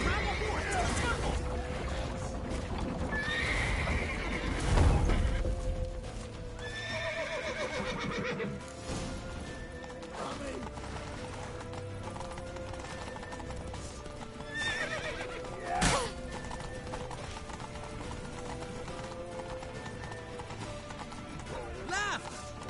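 Horses clatter at a gallop with repeated clip-clop hoofbeats and several loud neighs and whinnies during a frantic escape toward a temple, with voices shouting over the hooves throughout.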